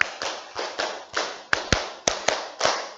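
High school students in a spice-history class perform a group clap routine, about ten crisp, close claps in a brisk, uneven pattern with short pauses between the beats.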